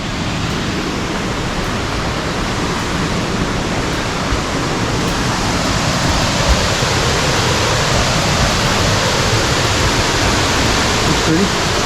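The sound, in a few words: Sycamore Falls waterfall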